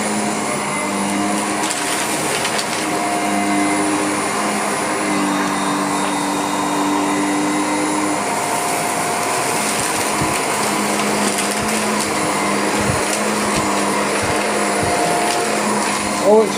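A Shark Powered LiftAway NV680 vacuum cleaner runs steadily and close, a constant roaring whine with small shifts in pitch as it works. A voice talks over it now and then.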